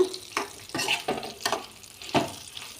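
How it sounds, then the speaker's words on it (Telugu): Bitter gourd curry cooking in a pan, with about six distinct scraping stirs at an uneven rhythm over a soft sizzle, close by. "ఇదిగో కాకరకాయ కూర దగ్గర పడింది కాకరకాయ కూర."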